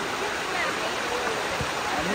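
A forest waterfall during the monsoon rushes in a steady, full roar of falling water, close and unbroken, with a few faint splashes beneath it.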